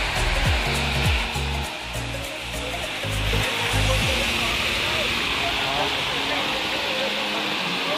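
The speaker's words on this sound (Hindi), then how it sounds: "ये देखिए झरना है" Steady rushing, hissing water from the Kakolat waterfall roars throughout, with a few low knocks and muffled voices near the start.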